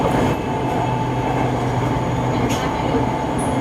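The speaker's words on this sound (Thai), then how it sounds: "ข้างล่างก็มีรถไฟฟ้าสายสีแดงจอดอยู่นะฮะ มีขบวนรถวิ่งสวนมาด้วยนะฮะ" A Bangkok SRT Red Line electric train runs below a station, giving a steady, continuous rumble of rail noise with a faint squeal near the end, heard from some distance without talk.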